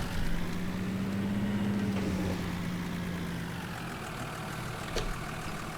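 Steady low engine drone of a large tractor idling in Farming Simulator 19 while a heavy implement is lowered, a constant hum carrying through the whole stretch at moderate level with faint clicks near the end.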